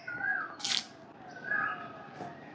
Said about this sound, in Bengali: কি সুন্দর কোকিলের ডাক।